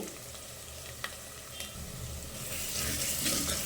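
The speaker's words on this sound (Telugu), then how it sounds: "ఈ మసాలాలు కూడా మంచిగా కొంచెం వేగనీయాలా" Masala spices fry in a pan for boti curry. A quiet close sizzle carries a couple of faint utensil taps early on, then swells into a brighter, louder hiss over the last second or so.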